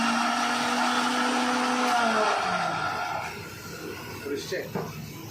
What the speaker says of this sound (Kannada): ಜಾರಲ್ಲಿ ಹಾಕಿ ಸ್ವಲ್ಪ ಗ್ರೈಂಡ್ ಮಾಡಬೇಕು